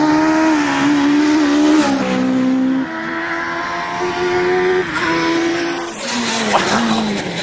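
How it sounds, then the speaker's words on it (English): A loud, high-revving Pro-Motive R1 Mini race car engine roaring continuously on a track, pitch rising and dropping through gear changes as it drives past, with no voices. "Wow! Well, this car certainly sounds amazing."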